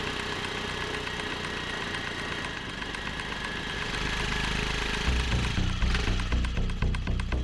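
A vehicle engine idles with a steady low rumble after the vehicle pulls to a stop, loud and close, and the tone deepens slightly toward the end.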